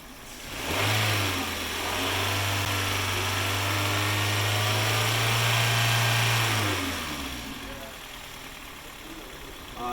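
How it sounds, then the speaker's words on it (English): A 2014 Hyundai Tucson with a faulty engine coolant temperature connector revs up hard from idle, its engine tone rising and holding loud and steady for several seconds before dropping back down, close by. "we're going to show what happens when the car gets revved up"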